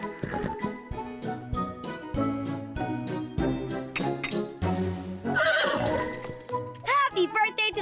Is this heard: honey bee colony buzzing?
no